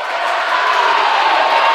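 A crowd cheers loudly and continuously at a college volleyball match between Eureka College and Webster University, a sustained roar of shouts and whoops filling the hall.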